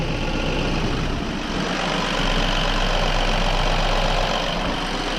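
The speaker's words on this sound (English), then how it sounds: "This is just a normal injector clicking" BMW N13 engine in an F20/F30 idling steadily after an oil pump chain replacement, a close, constant mid-frequency hum with a fine, regular ticking of the injectors layered over it and no rattles.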